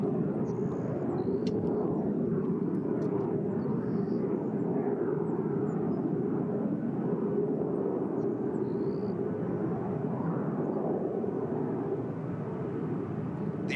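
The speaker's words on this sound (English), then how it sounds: "The Checkmate jet team is made up of 4 experienced warbird pilots flying in close formation." Jet formation flyby at an air show by four warbirds, three L-39C Albatross trainers led by a T-33, flying in close formation; a steady, fairly distant engine roar holds level throughout with no voices.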